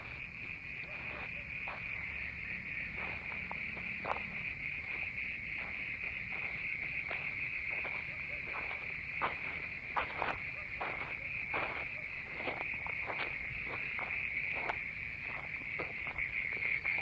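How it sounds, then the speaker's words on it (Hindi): Frogs croaking at night, seemingly from inside a well, a steady, faint chorus of rapid repeated calls mixed with insect-like trilling, continuous throughout with no talking. "मेंढक है मेंढक है"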